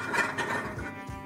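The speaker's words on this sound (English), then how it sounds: "That noise you're hearing, this is the pressure cooker container." Dry chickpeas scraped and poured into a pressure cooker container, giving a close, continuous gritty rasp and rattle with small bursts, no talking.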